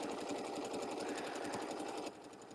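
A sewing machine stitches a quilted table topper with a steady, fast, continuous whir of rapid needle strokes that runs loud and alone, then eases slightly softer near the end.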